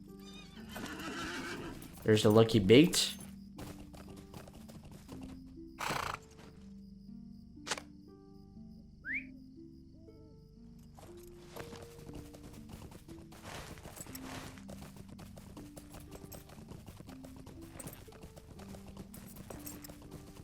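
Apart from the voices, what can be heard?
horse galloping and neighing in LOTRO video game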